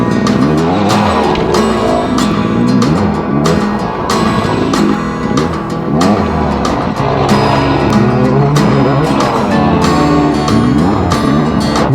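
Two-stroke dirt bike ripping around a trail loop, engine revving up and down continuously and loud throughout, with throttle surges and brief dips as it works through the sections.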